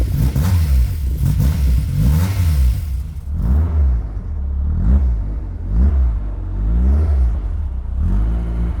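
A Caterham 420R sports car engine revs repeatedly, unable to idle, rising and falling in loud rhythmic surges, close by and with no other sounds.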